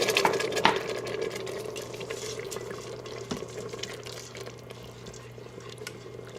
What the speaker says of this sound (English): Now it's time for us to add our water.